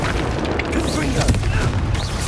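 In Hogwarts Legacy, a Confringo blasting curse spell bursts with a heavy, close boom and rumbling crackle that fills the whole moment, with game voices underneath.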